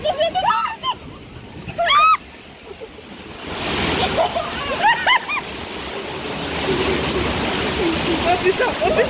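Waterfall water splashing and rushing during a boat ride, a broad roar that swells and stays loud under excited shouting from riders nearby.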